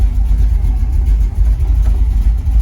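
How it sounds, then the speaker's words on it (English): A car engine, fitted with an Auto Meter dash and a GPS speedometer, runs loud and close with a deep, steady low rumble and slight fluctuations in revs, with no talking over it. "let me go ahead and start the car, and then we'll go for a little drive"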